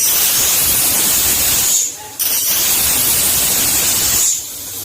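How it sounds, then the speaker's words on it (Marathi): A pressure cooker of Kolhapuri mutton rassa vents steam in a loud, close, rushing hiss, cutting off briefly twice before resuming. "इथे मी 8 ते 9 शिट्ट्या काढून घेतलेल्या आहेत।"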